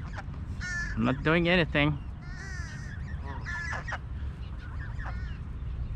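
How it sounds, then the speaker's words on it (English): A goose honks loudly and nearly in a burst of harsh repeated calls close by as food is set out, while someone talks over and around the honking. "There's one greedy goose over here."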